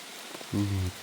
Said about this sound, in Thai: พอดีฝนตก ตอนนี้ก็ฝนอยู่